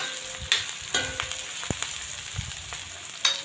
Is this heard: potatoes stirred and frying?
yes